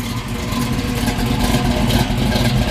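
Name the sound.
1969 Chevrolet Camaro Z28 small block engine revving, Flowmaster exhaust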